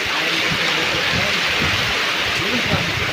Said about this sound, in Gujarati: આજ વહેલો ચાલુ થઈ ગયો નકરતા મોડો મોડો આવતો વરસાદ